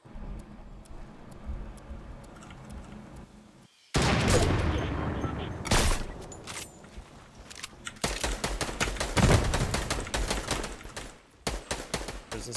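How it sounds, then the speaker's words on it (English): Gunfire in a shooter video game, with loud sharp shots and rapid bursts of automatic fire coming in clusters, some close and some farther off, and a little talking between them. "Someone just shot. On the roof."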